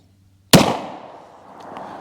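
A single sharp gunshot from a Taurus Commander .45 ACP pistol with a 4 1/4 inch barrel, firing Federal Premium Guard Dog ammunition: one loud, close crack followed by a long, fading outdoor echo.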